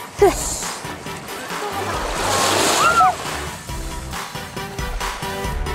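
Sea surf washes onto a sandy beach on a hot day, a steady broadband wash that swells to a fuller rush midway, with voices faintly present underneath.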